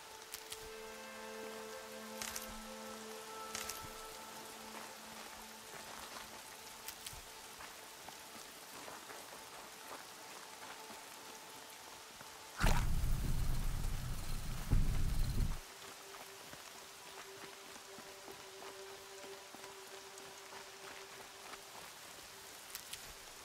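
Steady rain falls in Horizon Zero Dawn Remastered, a soft, even hiss with scattered drops, broken midway by a short, louder low rumble before the quiet downpour continues.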